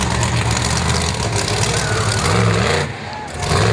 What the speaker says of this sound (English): Is it idling a little bit better? Still sounds a little bit sick.